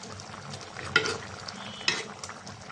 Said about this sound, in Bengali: হালকা একটু নাড়াচাড়া দিয়ে দিই, যেহেতু জিরার গুঁড়ো দিয়ে দিয়েছি, যেন সবটার সাথে মিশে যায়।